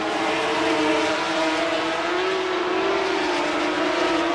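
Grand Prix racing motorcycles from Honda, Yamaha and Suzuki scream past in a close three-way battle, a loud, sustained high engine whine with shifting pitch that rises and falls as the bikes pass.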